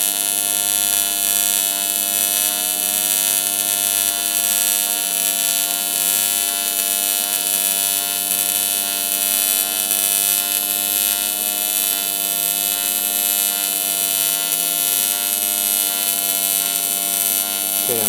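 TIG welding a billet cap onto an LS dry sump tank, a steady electrical hum and buzz from the torch arc held at constant level throughout, close and uninterrupted with no talk.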